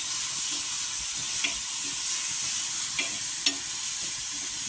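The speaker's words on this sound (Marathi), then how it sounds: "चांगले हलवून घेऊ" Green chilli thecha stirred and frying in a pan, a steady sizzle with occasional scraping strokes of the spoon, close and alone.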